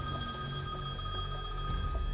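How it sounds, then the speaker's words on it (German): A telephone rings with a steady, continuous electronic bell tone, fairly faint and alone with no talk, over a low background hum. "Am nächsten Tag klingelt es wieder."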